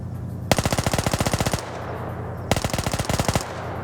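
Two bursts of M60 machine gun fire rattle out in a 100-player PvP video game match, a rapid even stream of loud shots, the first burst about a second long and the second slightly shorter.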